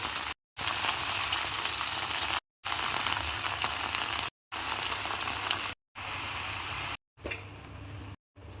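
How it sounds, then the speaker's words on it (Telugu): Leafy greens frying in a pan over a low flame, a steady soft sizzle broken into several bursts by short gaps, with occasional stirring and no one speaking. "లో ఫ్లేమ్లో పెట్టుకొని మధ్య మధ్యలో కలుపుకుంటూ ఉండాలండి"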